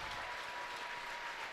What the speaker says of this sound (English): Now Emily Gowan gets a good ovation from the crowd.